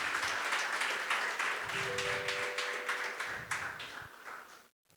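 A church congregation applauds steadily during a service, a broad wash of many hands clapping at moderate distance, with a held musical tone underneath before it cuts off abruptly.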